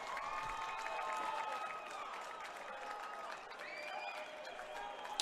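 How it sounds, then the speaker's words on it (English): Crowd at a high school boys soccer championship game, Rowland Hall versus American Heritage, cheering and applauding steadily throughout, with a few rising whistles and shouts cutting through the sustained roar. "they're on their feet, cheering on their side"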